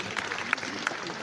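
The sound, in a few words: audience applause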